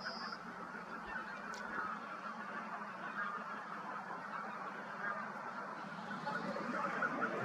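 A large flock of geese in a field in Tuusula, Finland honks and chatters continuously at a distance, a dense outdoor babble of calls with occasional other bird notes, including mallards.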